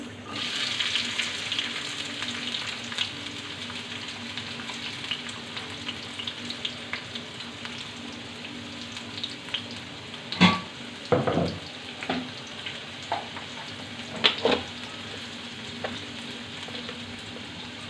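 Onions fry in a pan for a prawn curry, giving a steady moderate sizzle throughout, broken by a few sharp clattering bursts from stirring.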